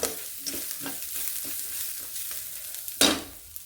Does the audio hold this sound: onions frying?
yes